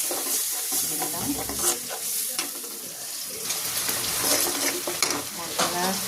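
Spice paste frying and being stirred in a pan for a Bengali fish and vegetable dish: steady sizzle with repeated scraping stirs of a utensil against the pan, close and continuous.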